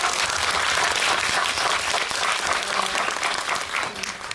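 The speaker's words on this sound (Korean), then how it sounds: "박수 한번 부탁드릴게요" An audience at a film screening Q&A applauds, a dense burst of clapping that stays loud for a few seconds and then tapers slightly.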